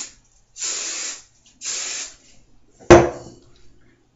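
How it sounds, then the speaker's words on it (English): Hairspray sprayed onto hair while styling it into a 10th Doctor look: two long steady hissing bursts from an aerosol can, close and fairly loud, followed by a sharper short spray blast that fades out. "Hairspray, lots of hairspray."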